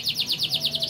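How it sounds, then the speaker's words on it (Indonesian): A caged canary sings a rapid, high run of bright chirps repeated in an even rhythm, fairly close and steady, used as a lively singer to stimulate a female canary. "kita dengarkan kenari gacor ya, kita pancing dengan kenari gacor"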